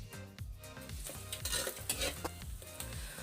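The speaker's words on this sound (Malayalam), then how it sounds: "നമുക്ക് സവോള ഇട്ട് വഴറ്റിയെടുക്കാം" Sliced onions sauté in hot coconut oil with cardamom, cloves, cinnamon and a bay leaf for Kerala-style mutton curry, sizzling steadily while a utensil stirs and scrapes the pan in quick repeated strokes, close up with no voices.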